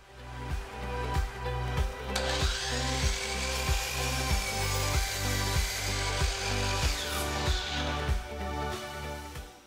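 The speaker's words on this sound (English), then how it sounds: "And then I cut my lumber using my miter saw." A miter saw cuts 2x4 pine lumber: a motor whine rises and holds through the cut over a steady rapid mechanical pulsing, then winds down toward the end, heard close and moderately loud.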